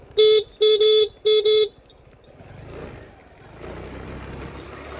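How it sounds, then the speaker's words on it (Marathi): Three loud car horn honks sound in quick succession, each blast about a second long, used to clear bulls standing on a road on a morning drive, followed by a low engine rumble and road noise. "ते हॉर्न मार गाडीला."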